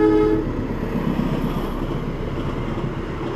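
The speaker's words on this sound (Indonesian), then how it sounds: "sambil kita nunggu kita menikmati suasana rel kereta" A train rolls past close by on the railway tracks at a crossing, with a brief horn tone at the start under a loud, steady rumble of wheels on rail.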